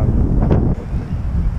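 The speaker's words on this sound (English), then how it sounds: "It's probably stupid amount of wind too, because it's cold and windy." Strong cold wind buffets the microphone outdoors, a loud continuous low rumble with gusty swells throughout and no voices.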